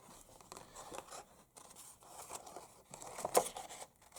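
Quiet snipping of scissors through paper, several soft cuts in an uneven rhythm with faint rustling, close and without speech.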